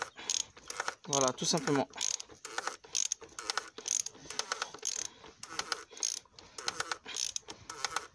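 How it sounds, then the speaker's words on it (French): A wrench tightens the oil filter on a BMW 330d E46 with the M57 diesel, ratcheting in rapid, repeated clicking bursts close to the microphone, with a brief squeak early on and a short spoken remark. "Une fois que ça prend bien le filetage, on prend la clé et on serre."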